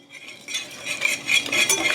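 Vegan pumpkin waffle batter with melted vegan butter being stirred in a bowl, a utensil scraping and clinking in quick, continuous rhythmic strokes, close and fairly loud, with no voices.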